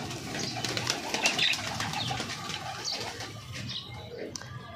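Pigeons on a village house rooftop give soft cooing and bursts of wing flapping, close by, with scattered chirps and a busy outdoor background; a little talk is faintly present.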